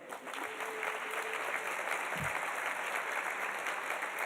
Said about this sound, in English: round of applause for you guys as well